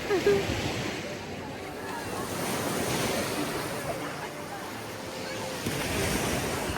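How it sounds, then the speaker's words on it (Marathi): Waves roll steadily onto a beach at Long Point Provincial Park in Canada, a continuous wash of surf mixed with gusting wind buffeting the microphone. "पाण्याची लाट मस्त आहे ना"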